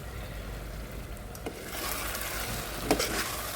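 A spoon scrapes and stirs through a prawn biryani mixture with coriander in a pot, a soft gritty scraping over a faint background hiss, with a couple of sharper knocks near the end.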